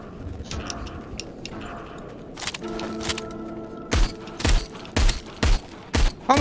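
Gunfire in the VR video game Arizona Sunshine: a handful of sharp, loud shots in an irregular rhythm, following quieter clicks and a tonal hum from the game.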